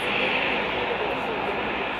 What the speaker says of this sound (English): The planes take to the runway and begin to taxi out.